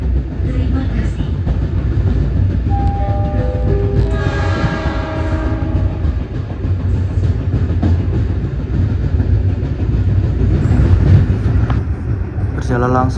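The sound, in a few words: local commuter train running, Surabaya to Sidoarjo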